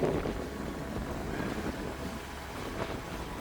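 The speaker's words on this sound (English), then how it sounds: "I think you can hear the wind's really picked up now" Strong wind buffets the microphone on an open mountain path below the summit of Bynack More in the Cairngorms, Scotland, a steady broadband roar with gusts, no voices.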